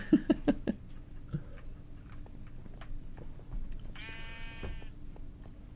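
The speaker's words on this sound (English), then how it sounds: "Ooh, is that a pink sheep?" A pink sheep in the Minecraft video game gives a single short, nasal bleat near the end. Before it come a few sharp clicks over a low, steady hum.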